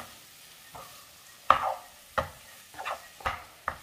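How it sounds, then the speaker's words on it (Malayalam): A spice paste mixed with a little vinegar in a pan for a quail egg roast: quiet, separate scrapes and taps of a spoon stirring, about six in a few seconds, with a faint sizzle between them. "എല്ലാം കൂടെ ഒന്ന് മിക്സ് ചെയ്യാം"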